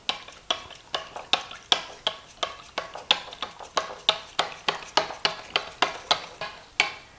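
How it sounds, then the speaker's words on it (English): A whisk beats eggs with seasonings in a bowl, producing a quick rhythmic series of sharp clinking strokes, about two or three per second, close and fairly quiet, with no voices. "let's go in with our egg beater, or a whisk, or a fork,"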